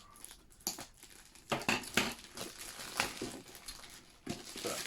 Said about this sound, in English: If I can actually get this open, use actual scissors, Chris.